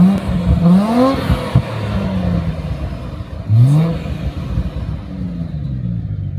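Tuned Nissan GT-R exhaust revving up twice outside, each rev rising sharply then falling back to a rumbling idle, moderately loud and close.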